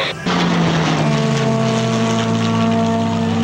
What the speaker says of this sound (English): the Allison engine powering this Millville P-40, this Curtiss Wright aircraft